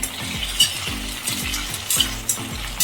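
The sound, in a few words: stir-frying ivy gourd with garlic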